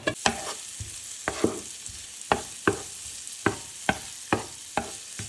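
Chopped shallot seasoned with salt and freshly ground pepper cooks over medium heat. A soft, even sizzle sits under regular scraping strokes of a spoon against the pan, about two per second.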